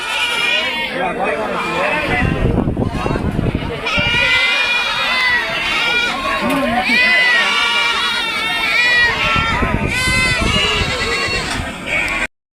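Goats bleat over and over at a busy livestock market in Prakasam district, Ongole, many animals calling loudly at once amid a crowd's steady chatter and bustle.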